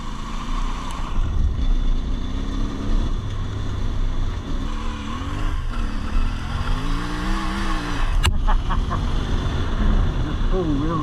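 A CF Moto 450MT adventure motorcycle spins its rear wheel off-road, its engine droning and revving loudly with rising and falling pitch sweeps, while a rider talks over it.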